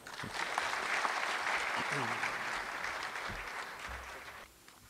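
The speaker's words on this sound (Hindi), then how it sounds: "उनको तालियों से स्वागत करेंगे" At a mushaira in Muscat, an audience welcomes the poets with sustained applause. Broad, even clapping lasts about four and a half seconds, then stops abruptly, with faint voices mixed in beneath it.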